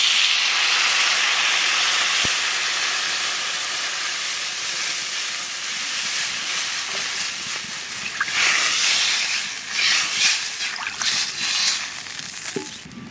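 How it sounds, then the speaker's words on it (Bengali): Water poured onto fried potatoes in a hot pan bursts into a loud, rushing steam hiss that gradually eases into a bubbling, crackling sizzle. "আলু ভাজা হয়ে গেছে, ওখানে জল দিয়ে দেবো।"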